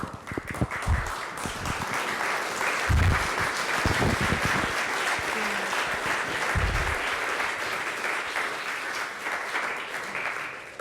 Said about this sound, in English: let's do the applause first.